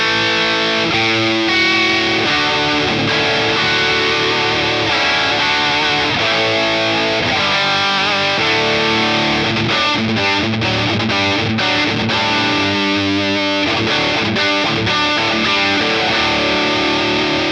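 Electric guitar played loud through a Danelectro Cool Cat distortion pedal, with thick, saturated chords and riffs that ring continuously for the whole stretch, broken by a few brief choppy stops near the end.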